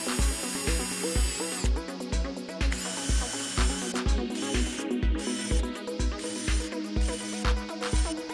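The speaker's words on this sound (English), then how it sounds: "Now, since I just drilled out these holes," A power drill bores out rivet holes in an aircraft fuselage skin, running in repeated loud bursts with sharp on-off starts and a rhythmic mechanical chatter, close and with no voices.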